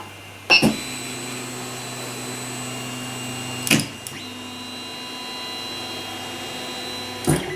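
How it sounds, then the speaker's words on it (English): Steady motorized whirring hum of a Creality Ender 3 3D printer auto-homing, with tonal whine held throughout, broken by a few sharp clicks and clunks as axes reach their stops. "this is me turning on the 3D printer for the first time"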